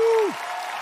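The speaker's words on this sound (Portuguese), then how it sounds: "Hoje uma salva de palmas pro Kiba, que está aqui." Studio audience applause on a Brazilian TV variety show stage, a brief burst of clapping following a sustained tone that slides downward, then dense, steady clapping.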